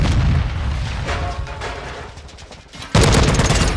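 Explosions and gunfire crash through a Call of Duty: Modern Warfare II team deathmatch in the Shoot House map, dense booming bursts with a sharp loud blast near the end, suggesting a Semtex grenade detonating.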